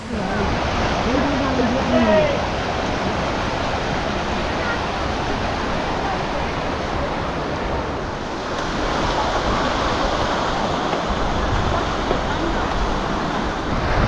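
Cold river water rushing beneath the Jogighat bridge in Sittong, a steady, loud, broadband roar filling the whole stretch, with faint voices briefly audible early on.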